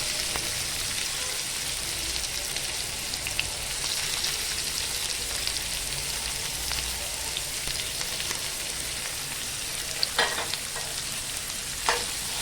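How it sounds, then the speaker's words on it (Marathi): Onion and tomato sizzle in hot oil in a pan for dry bombil masala, a dense, steady crackling hiss close by, with a few sharp pops and spatters toward the end and no voices. "तेल छान तापलेले आहे आता आपण ना कांदा आणि टॅमॅटो टाकून घेऊया"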